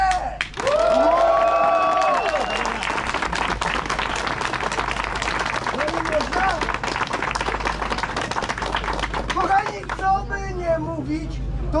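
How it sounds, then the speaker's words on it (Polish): Crowd at a Runmageddon obstacle race event in Modlin Fortress claps and cheers continuously and loudly, with an announcer's amplified voice talking over the applause throughout. "chciałbym, aby te brawa teraz były dla was"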